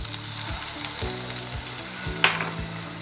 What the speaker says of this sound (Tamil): லைட்டாக மட்டும் வதங்கினா போதும். அது கூட சோயா சாஸ் ஊற்றிக்கோங்க.